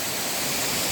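A spring waterfall in a Lancashire gorge pours with a constant, close, full-bodied rushing hiss that stays steady throughout.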